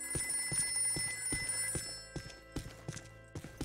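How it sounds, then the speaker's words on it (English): A telephone rings in the Ghostbusters Remastered video game, sounding as a run of short, evenly spaced bell-like bursts that keep going across the clip, mid-level in loudness over a steady electronic background. "There's the ringing."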